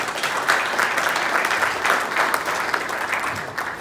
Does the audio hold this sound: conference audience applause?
yes